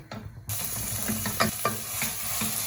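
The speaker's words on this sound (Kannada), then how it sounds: "ಇದೊಂದು 2 ಮಿನಿಟ್ಸ್ ಫ್ರೈ ಮಾಡ್ತಾ ಇರಿ" Masala for Naidu-style mutton biryani fries in a pan with a steady close sizzle, punctuated by several scraping stirs of a spoon across the pan.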